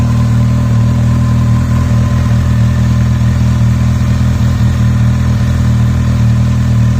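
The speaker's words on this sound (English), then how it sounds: "Fan's on, fan's trying to cool it down." Honda CBF1000 motorcycle engine running while hot, its cooling fan whirring, a steady loud low drone with constant hum and no revving throughout.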